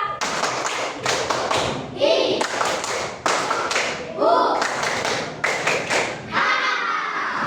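A class of children clap together in a one, two, three rhythm, loud sharp thuds in repeated bursts of a few claps with short pauses between, close and sitting over some background chatter.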